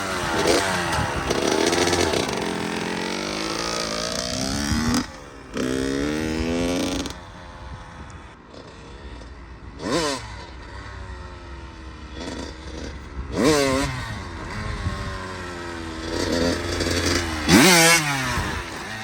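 A motorcycle revs hard again and again with sharp clutch pops as a beginner attempts a wheelie. The engine is loud and close, with brief drops between rising surges of throttle.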